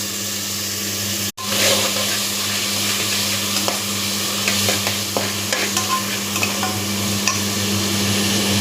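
Onions and tomatoes sauté in a pan with salt, giving a loud, continuous sizzle, a steady hum underneath and frequent small scraping stirs after a brief cut near the start.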